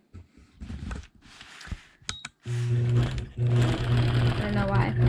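A sewing machine stitches a nested circle medallion quilting design, starting with a few short bursts and then running in a loud, steady whir with brief pauses, while a person talks over the early stops.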